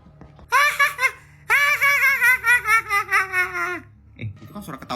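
Eerie baby laughter in a horror film, two bursts of high giggling, a short one followed by a longer rhythmic run of laughs, close and loud, with a faint rustle afterward.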